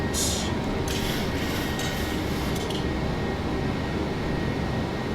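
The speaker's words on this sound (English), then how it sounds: "Alright, here's 3000, starting to accelerate." A PMDG 737-900ER jet speeds along the runway on its takeoff roll in a flight simulator, giving a loud, steady engine roar with a faint whine and a few hissing bursts near the start.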